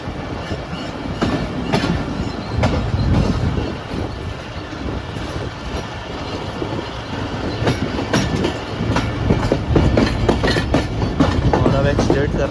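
The Pak Business Express 33UP economy-class train pulls out of Padidan station on the Karachi to Lahore line, heard from on board as a loud, continuous rumble of wheels and carriages with rhythmic rail clatter and wind.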